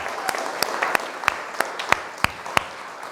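Applause for youth and young adult leaders comes as scattered, fairly sparse clapping, with a few sharp individual claps standing out over a softer background.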